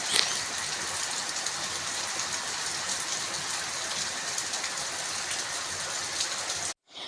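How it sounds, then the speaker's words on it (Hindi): Heavy rain pours down on a village in Himachal Pradesh, India, in a dense, constant hiss that barely changes from start to finish. "इतनी तेज़ बारिश हुई, आप देख सकते हो कितनी ज़्यादा बारिश हो रही थी"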